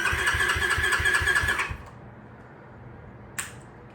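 An X-Pro Storm 150 dual sport motorcycle engine is cranked over in a rhythmic chugging burst for under two seconds, then cuts out into quiet, followed by a single short click.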